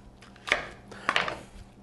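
A knife slices through onions on a cutting board while a chuck roast is prepared in a quiet kitchen, giving two crisp, close cutting strokes about half a second apart.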